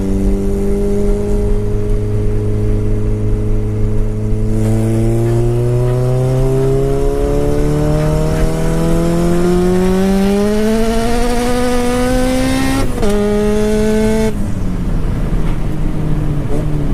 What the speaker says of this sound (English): I'm gonna try a third gear rip and see where the tune is and see if it hops or hooks up